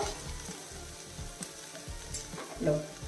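Tomatoes sauté in a pan for a wheat ada dosa filling, a close, continuous sizzle broken by rhythmic scraping and stirring strokes.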